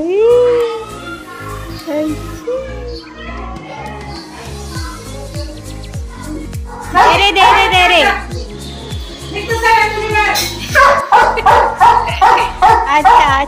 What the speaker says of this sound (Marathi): काबर भुकते पण तू?